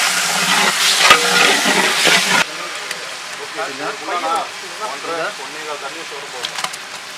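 Tomatoes added to a hot pan for mushroom biryani sizzle in a loud burst for a couple of seconds, then settle into a softer steady fry as a voice talks over the cooking.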